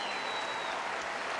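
Tennis crowd applauding after a reaction volley at the 2013 Sony Open, a dense wash of clapping from a large audience, steady and fairly loud throughout a brief burst.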